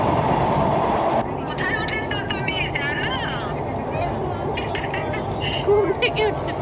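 A passenger train crossing the Padma Bridge on the Dhaka to Kushtia route, with a steady close rumble and rattle of the rail cars throughout and a brief voice over it.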